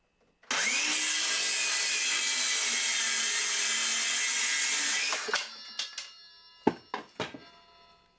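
Battery-powered cutting tool on a 4 amp-hour battery with a fresh blade starts abruptly and runs at a steady loud whine for about five seconds, then winds down, followed by several sharp clunks and rattles.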